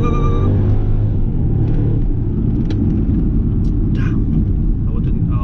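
Loud, close engine roar from a Mercedes CLS55 AMG launched hard in sport mode, steady heavy rumble throughout with a few sharp higher bursts, overlapping excited voices inside the car.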